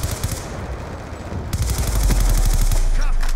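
Rapid automatic gunfire from Call of Duty Black Ops 2 multiplayer rattles loud and close, sparse shots at first and then a dense sustained burst, with a voice briefly underneath.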